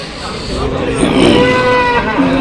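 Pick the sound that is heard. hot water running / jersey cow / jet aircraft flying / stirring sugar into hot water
jersey cow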